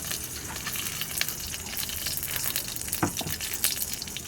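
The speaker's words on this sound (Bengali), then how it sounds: "কড়াই গরম হয়ে গেছে, ঘি অল্প দিয়ে দেব" Ghee heating in a hot kadai gives a steady, close sizzling hiss with faint crackles and a couple of small knocks, with no talking.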